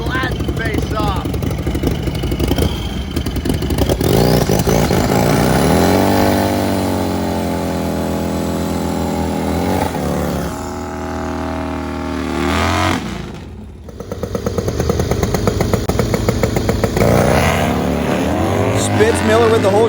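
Harley drag racing motorcycles roar down a drag strip, loud engines revving and screaming through gears, one rising pass fading before another burst of engine noise, with a commentator talking over it.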